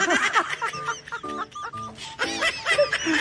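Clucking and crowing calls from a large turkey and chickens, several bursts in a row at close range, with voices talking in between.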